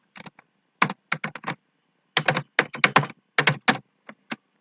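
Typing C++ prefix sum code on a computer keyboard, crisp close key clicks in short irregular bursts with brief pauses between, no voice.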